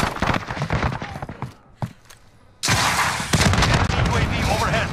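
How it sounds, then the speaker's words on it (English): Cruise missile strikes in a first-person shooter video game, with heavy booming blasts and a crackling rumble of gunfire, then a sharp burst into a loud, sustained roar of explosions. "Cruise missile ready to launch."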